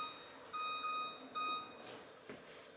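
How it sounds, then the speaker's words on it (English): A kitchen timer in a home kitchen beeps in two short bursts of rapid, high-pitched electronic tones, clear and fairly close, followed by faint rustling. "I'm going to set my timer for 2 minutes."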